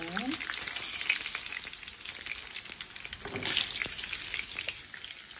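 Food frying in oil while rice cooks, a steady soft sizzle and crackle with a few stirring clinks, close and moderately quiet.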